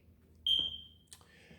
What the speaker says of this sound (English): that's my smoke alarm telling me I need a new battery